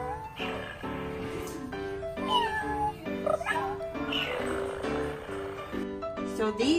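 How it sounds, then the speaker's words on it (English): A FurReal Friends electronic toy cat gives repeated synthetic meows with a purring undertone, close and clear, as soft voices murmur nearby. "She's purring."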